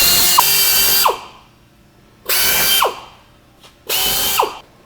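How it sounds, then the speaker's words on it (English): Power drill with a 13/64 bit boring through the side panel of a PolyJohn We'll Care III portable restroom unit: three loud whining bursts of about a second each, separated by pauses, with a brief faint spin-up between the last two. "So using a 13/64 drill bit now, we're going to drill through the side panel."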